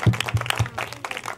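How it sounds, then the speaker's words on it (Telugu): Hands clapping at a semi-Christmas worship gathering: a few sharp, spaced claps followed by softer scattered clapping, close and fairly quiet. "చప్పట్ల కొడుతాను."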